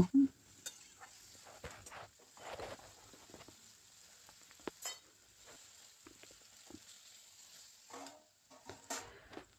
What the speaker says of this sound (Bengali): দিয়ে দেওয়ার পর আরও কিছুক্ষণ পটলগুলোকে আমি কষিয়ে নেব।